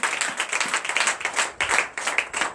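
A church congregation claps in dense, continuous applause during a night deliverance and prophecy service, the loud rapid claps swelling and dipping briefly.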